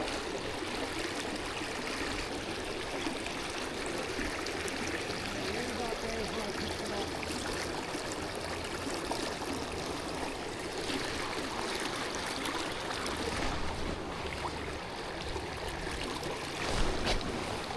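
A steelhead river flows steadily on a fly fishing trip, its broad continuous rush of water close and even throughout.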